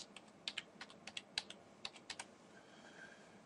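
Quick, irregular keystrokes on a computer keyboard, a burst of crisp clicks typed close by and alone, tapering off into quiet room hiss.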